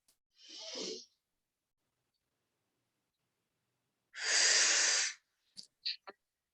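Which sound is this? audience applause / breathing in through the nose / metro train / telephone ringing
breathing in through the nose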